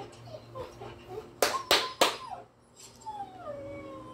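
Dog sounds from The Walking Dead Season 2 video game: three sharp, loud bursts in quick succession, then a thin rising whimper that trails off, with no talking.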